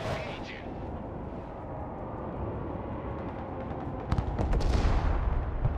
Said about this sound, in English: We'll do a precision bombing strike on it.